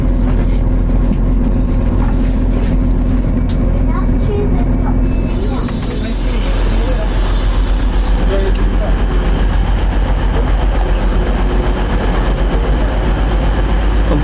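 A Class 185 train runs with a loud, steady rumble and rolling rail noise, a hissing burst rising partway through, with people talking over it.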